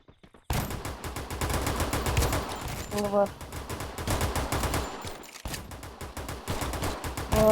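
Rapid automatic gunfire from the video game Free Fire Max, dense bursts running almost continuously at close range, broken by a short pause and a brief electronic tone, with game sounds layered over the shots.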